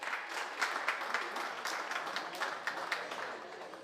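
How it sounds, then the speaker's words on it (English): A steady round of applause from the crowd at a county livestock show, honoring youth exhibitors after a class of gilts is judged; dense, even clapping throughout with small swells. "Let's pay those kids off with a nice round of applause"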